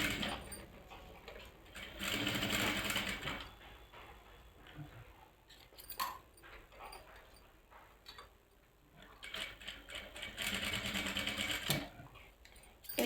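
A sewing machine stitches a frock in quick mechanical bursts, running for a few seconds, pausing, then starting again, close up and fairly quiet with a ticking, clattering rhythm.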